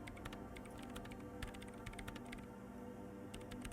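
In the Disco Elysium video game, a computer keyboard clicks in quick, irregular keystrokes, close and crisp over a low steady background hum.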